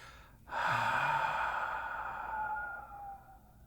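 A single long, deep exhale during a meditation, soft and close, rising quickly and trailing off slowly over a few seconds in a quiet room.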